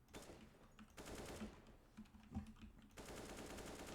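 Automatic rifle fire bursts through a wall on a Counter-Strike map, sustained rapid shots in two stretches separated by a quieter gap with a few isolated pops, fairly faint and distant.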